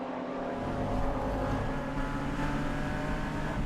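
Porsche Cayman race car in the Porsche Club Championship, heard onboard through the club chicane and around club corner: a loud, steady engine drone with dense harmonics that holds throughout without a break.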